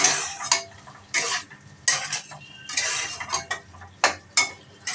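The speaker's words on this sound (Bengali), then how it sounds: "আমার কিন্তু সব মশলা অ্যাড হয়ে গেছে এখন শুধু আমি কষাবো" Spices and tomato for a catfish (magur) curry are sautéed in a pan, with loud, close bursts of a spatula scraping and clanking against the metal over a faint sizzle, in an uneven stirring rhythm.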